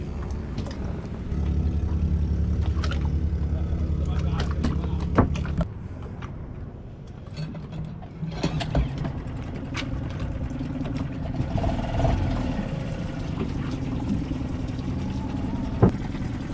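The outboard motor on a sailboat's dinghy restarts and then runs steadily for a while, a continuous loud engine drone with a change in its note partway through and a few knocks and clatters along the way.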